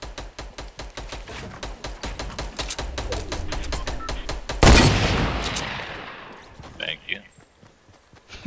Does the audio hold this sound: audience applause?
no